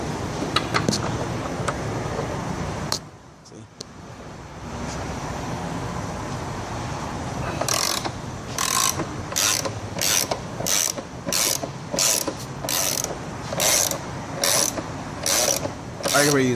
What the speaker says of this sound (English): I can use ratchet, impact.